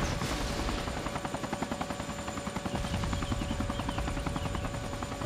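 A helicopter in the video game ArmA 2 gives a steady rhythmic rotor chop under a constant engine whine, moderately loud and continuous throughout.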